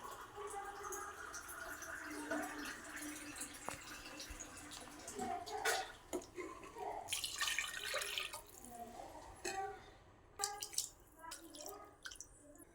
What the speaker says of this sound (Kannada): ಇದಕ್ಕೆ 4 ಗ್ಲಾಸ್ ನೀರು ಹಾಕ್ತಾ ಇದ್ದೀವಿ.